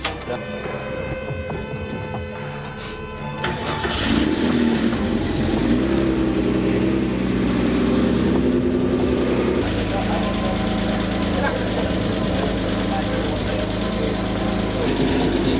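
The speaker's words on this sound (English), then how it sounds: "one of you, if you want to go ahead and start the car" Porsche 930 Turbo race car cranking over and firing up, its engine settling into a loud, steady idle after a quieter stretch at the start.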